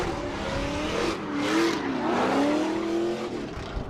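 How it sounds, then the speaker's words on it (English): Drift cars warming their tires at a Holley LS Fest West drift competition roar continuously at high revs, with the engine pitch rising and falling as they slide, loud and close throughout. "So these guys going to get their tires warmed up."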